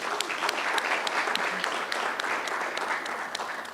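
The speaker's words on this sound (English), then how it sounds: "Can we give him a hand, please?" Audience applause fills an indoor conference hall at a City Power energy indaba, steady dense clapping from a large crowd held at an even level throughout, with no voices over it.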